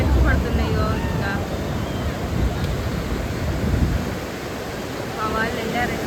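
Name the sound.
sea waves crashing on beach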